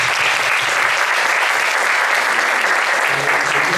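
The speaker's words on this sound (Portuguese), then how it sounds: "Vamos novamente aplaudir, por favor." Sustained audience applause at an academic seminar, loud and dense, steady from start to finish with no talk over it.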